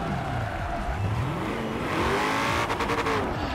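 Ford Five Window engine revving hard in Forza Horizon 4, a loud continuous drone rising and falling in pitch with rapid throttle changes, without speech.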